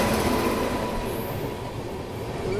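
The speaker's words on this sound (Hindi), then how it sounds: "ये आती है भाई WAG 9 के साथ धीमी रफ्तार में" A passenger train creeps in at slow speed behind a WAG 9 electric locomotive, giving a steady rumbling roll with a faint high wheel squeal, continuous and fairly close with no talk.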